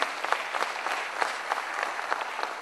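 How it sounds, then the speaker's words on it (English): An audience at a business partnership announcement between the Bombay Stock Exchange and S&P Dow Jones Indices claps in steady, even applause, heard from a distance and fairly quiet throughout. "Let's have a huge round of applause."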